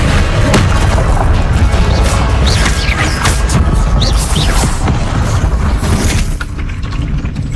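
Spell combat in Hogwarts Legacy, including a fiery Incendio blast, produces loud, dense booming and crashing impacts with overlapping bursts throughout.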